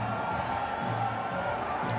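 A cricket crowd backing Pakistan during a home series produces a steady wash of distant cheering and chatter, holding at an even level throughout.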